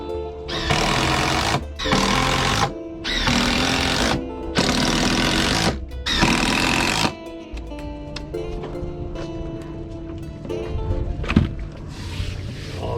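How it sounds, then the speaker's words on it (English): Power driver sinking small stainless screws into a wooden boat's top plank cap rail, five loud close bursts of buzzing motor with short pauses between, followed by quieter workshop hum and clatter. "So now I'm just going to drive these in. These are just little stainless screws."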